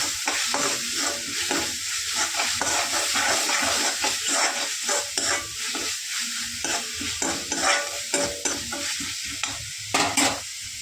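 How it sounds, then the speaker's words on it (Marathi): Onion masala and black masala sizzle and fry in hot oil in a pan while being stirred for a dhaba-style whole masoor lentil dish. The steady, close hiss is broken by frequent scraping stirs, with no talking. "2 चम्मच कांदा मसाला आणि थोडासा आपला काळा मसाला टाकूया आणि परत एकदा चांगलं परतून घेऊ"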